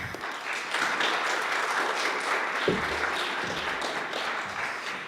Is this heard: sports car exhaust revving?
no